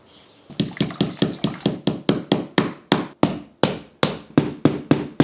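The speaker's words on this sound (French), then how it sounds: "C'est pas souvent qu'on cloue des vis au plafond." Screws are hammered into ceiling panels with a steady series of about seventeen loud, sharp blows, close by and evenly paced, with no voices.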